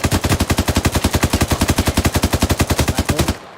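Sustained automatic gunfire in the video game ArmA 3 during a British military simulation firefight, a rapid steady burst of about thirty loud shots that runs for over three seconds and then cuts off, with no voices.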